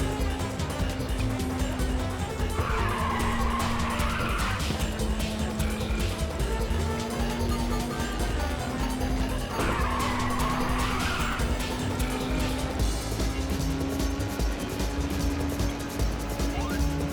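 A race car in the PSP game Ridge Racer 2 drifts with a steady engine roar, and two long tire squeals rise and fade over a loud continuous racing background.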